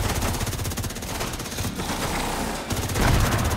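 Rapid automatic gunfire in a zombie video game on the Roosevelt map, sustained rattling bursts of evenly spaced shots with a brief pause, then heavier fire toward the end; no talking.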